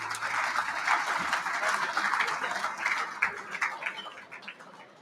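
A hall full of people applauds at an Eastern Football Netball League medal night honouring 300-game life members, with steady, dense clapping that holds throughout and thins slightly toward the end.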